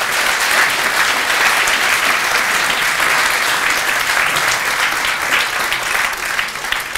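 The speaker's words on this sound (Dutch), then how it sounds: "wil ik graag eerst even een heel hartelijk applaus voor jullie tweeën." Loud, sustained applause from a Dutch audience fills the space, a dense, even roar of many hands clapping close by, with no talking over it.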